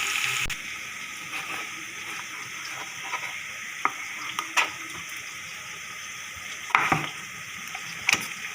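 Onions browning in hot oil in a pan while making aloo pulao, with a steady close sizzle and sharp scraping clicks from a stirring spoon at irregular moments, no voices.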